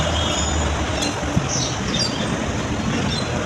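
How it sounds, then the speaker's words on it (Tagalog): An LRT light rail train runs toward Antipolo, with a continuous rolling rumble and faint high squeals from the wheels, heard from inside the car without speech. "Ako sa LRT, going to Antipolo."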